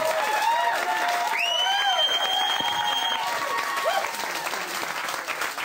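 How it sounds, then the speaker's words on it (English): Studio audience applause on a television show, a sustained crowd clapping that runs under loud music and a voice, thinning slightly toward the end. "Let's applaud ourselves for Pete's sake"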